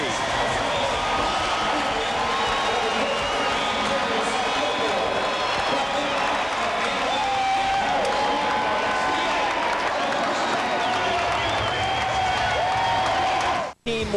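Crowd noise and cheering at a 1994 indoor lacrosse championship game between the Philadelphia Wings and Buffalo Bandits in Buffalo, a sustained arena roar under continuous play-by-play commentary, cutting off abruptly near the end.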